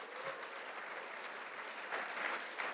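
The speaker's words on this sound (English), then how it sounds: "Can we please give him a round of applause?" Applause from a conference luncheon audience, a faint, distant wash of clapping that stays even throughout, swelling slightly near the end.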